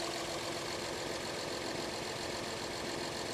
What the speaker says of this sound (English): here's the engine. Earth Dreams technology. And can you hear the pulsing?